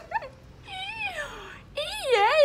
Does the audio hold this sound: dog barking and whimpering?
yes